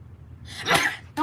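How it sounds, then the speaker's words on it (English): A single sharp human sneeze bursts out after a quiet inhale, close and fairly loud, followed by a brief clipped sound at the end. "I'm about to sneeze"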